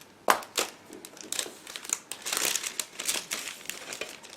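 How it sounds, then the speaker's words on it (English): A plastic bag holding the clear parts and decal sheet of a MiniArt 1/35 T-44 tank model kit being opened, with close, continuous crinkling and rustling and a sharp crackle near the start. "Now I need a second to open the plastic bag with transparent parts and decal"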